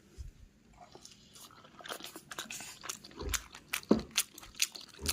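Close, wet chewing and crunchy bites of momo dumplings eaten by hand from a plate, irregular mouth sounds building over a few seconds, with faint background noise.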